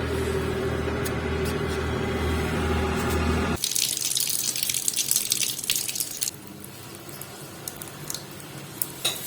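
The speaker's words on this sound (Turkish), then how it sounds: "Evet çeşmeyi açtık sıcak su tarafını." Water gushes loudly from an opened hot water tap while combi boiler pressure is drained, then shifts to a thinner spattering trickle with scattered drips and splashes.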